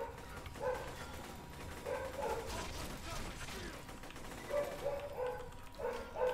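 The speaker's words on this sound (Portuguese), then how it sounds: "os cachorros da vizinhança inteira começaram a entrar em Berserk" Dogs across a neighborhood bark and yip in scattered bursts, faint and distant, repeating several times over a low background hum.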